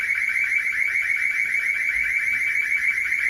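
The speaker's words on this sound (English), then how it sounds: "So it seems like they just hit the panic button here." Town hall panic alarm blaring continuously, a shrill piercing electronic tone pulsing rapidly without pause, loud and close indoors.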